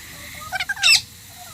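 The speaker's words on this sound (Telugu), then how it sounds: "పైన చిలుకలు" A couple of short, sharp parrot squawks ring out from a tree overhead, ending in a louder, shrill screech.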